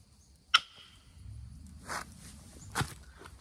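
Antler tool striking river-tumbled chert during flint knapping: a sharp, loud click, then softer scraping taps and another crisp strike, close by and without talk.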